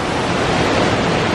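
Rushing water from a waterfall beside the track on a night safari ride through a savanna animal park, a steady, loud broadband wash that fills the whole moment with no voices.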